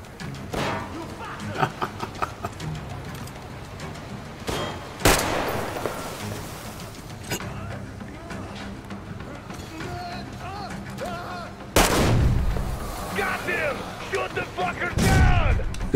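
Gunfire in the video game Metro Exodus, scattered shots and a few sharp loud blasts breaking through combat noise, footsteps and shouting voices.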